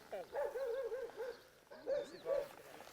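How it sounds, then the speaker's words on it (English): A dog gives a string of high, yappy barks and whines, pausing briefly before another short burst; faint and somewhat distant. "He's barking at that dog."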